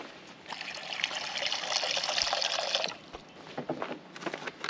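Water pours into a bowl at a teardrop trailer campsite, a bright, close splashing stream lasting about three seconds before it stops, followed by a few faint drips and handling sounds.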